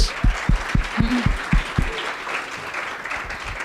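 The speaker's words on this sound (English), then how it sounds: "So I just wanted to give you guys another round of applause." A room of attendees at a late-night 2016 team policy meeting breaks into a round of applause, a loud, even burst of clapping with a few heavier thumps early on that gradually tapers off.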